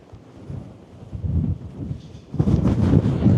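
Wind gusts across a Lake District summit camp, buffeting the microphone with a low roar that builds in waves and surges sharply louder near the end.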